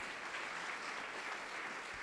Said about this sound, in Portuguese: Para todos vocês, aquela salva de palmas.